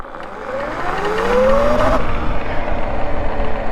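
A Sur Ron electric dirt bike, 72V, fitted with a new QS 165 35H V2 motor, accelerates hard from a standstill to 30, its rising electric whine sweeping upward over roughly two seconds before road and wind noise carry on.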